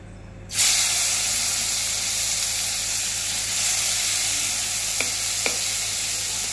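Onion paste drops into hot oil left from frying katla fish for doi katla, bursting into a loud, steady close-up sizzle after a brief silence, with a couple of faint clicks partway through.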